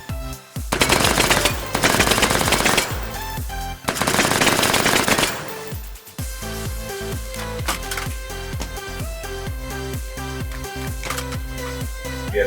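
Rapid full-auto bursts from a P90 submachine gun in the VR shooter H3VR, two long sustained strings of loud fire followed by a lighter run of quicker, scattered shots with mechanical clatter.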